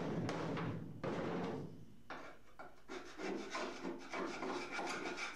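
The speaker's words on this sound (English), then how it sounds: "Scrape off a bit of my paint again." Rough, rasping scraping strokes removing paint from metal on an Opel Kadett rally car, repeated in short bursts with brief pauses, close and fairly loud.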